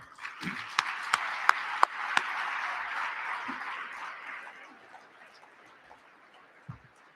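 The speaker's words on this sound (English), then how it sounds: "Let's give them a round of applause." A crowd claps steadily for a few seconds, the applause swelling then fading out, with a few sharp knocks at the start.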